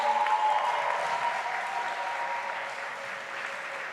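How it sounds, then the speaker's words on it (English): Audience applause fills an awards ceremony hall, a dense steady wash of many hands clapping at once. It stays loud and even throughout, fading only slightly toward the end, with no one speaking over it. "Can we please give them a round of applause?"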